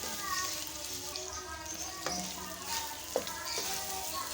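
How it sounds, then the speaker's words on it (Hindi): Spices for beef korma frying in a pot, a close steady sizzle with a few sharp scrapes and clinks of stirring, while soft voices murmur underneath. "तो बस अब हम इसको इतना फ्राई करेंगे कि मसालों का कच्चापन ख़त्म हो जाए"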